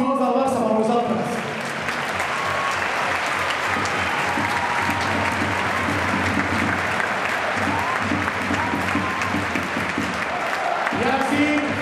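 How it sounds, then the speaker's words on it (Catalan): Huge stadium crowd at Spotify Camp Nou applauding during a farewell ceremony for FC Barcelona players, a dense, continuous roar of clapping and cheering that holds steady throughout, with a voice over a PA speaking at the start and end. "Un aplaudiment pels colors del Barça per vosaltres."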